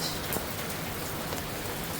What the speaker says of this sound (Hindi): और अब बारिश भी अब हल्की हो गई है